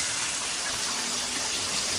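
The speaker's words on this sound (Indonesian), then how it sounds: "Ini mau kita siram pakai minyak yang panas bekas goreng ayam tadi" Hot oil left over from frying chicken is poured over ground chili sambal, a brief continuous sizzling hiss with no pauses and no talk.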